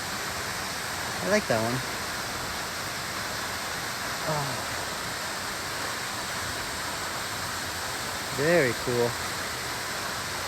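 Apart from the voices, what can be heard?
waterfall at Munising Falls, Michigan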